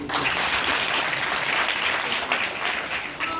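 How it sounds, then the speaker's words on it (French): A large audience applauds the head of state at a Congolese official gathering, with steady, thick, continuous clapping at an even loudness throughout. "Est-ce qu'on peut applaudir pour le chef de l'État?"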